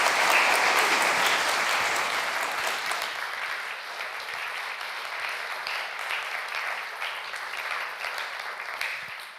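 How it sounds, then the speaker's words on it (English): Conference audience applause, a loud, dense burst of many hands clapping that starts strong and gradually thins and fades over about nine seconds, with no one speaking over it. "But can I get a really loud applause for John?"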